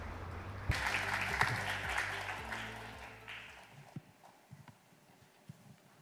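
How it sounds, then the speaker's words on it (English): Audience applause welcoming a speaker at a Busan ocean forum, a burst of clapping from a seated crowd that starts suddenly, holds for a few seconds, then thins out to a few scattered claps. "Please welcome him with a big round of applause."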